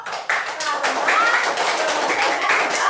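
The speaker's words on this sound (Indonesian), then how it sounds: "Kasih tepuk tangan untuk semua kelompok." Classroom students clapping for their project groups, a steady dense patter of hands lasting about three seconds, with children's voices mixed in.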